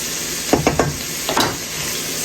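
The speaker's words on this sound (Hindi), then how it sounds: "तो मिक्स कर लेते हैं और 2 मिनट इसको ऑनियन के साथ पकाऊंगी" White parts of green onions and white onion stirred in a frying pan: a hiss of frying beneath a handful of distinct scraping stir strokes, three quick ones then two more, close and fairly loud.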